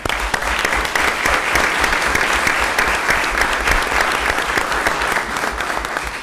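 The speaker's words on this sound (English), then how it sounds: "I think a good round of applause." A round of applause for a state champion high school soccer team, dense, loud continuous clapping from a crowd throughout, with no talk over it.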